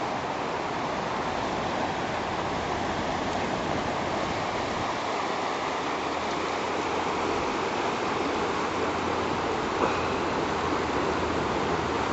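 Clear Creek in Colorado rushes steadily as a broad, even wash of flowing water, constant and fairly loud from start to finish with no voices.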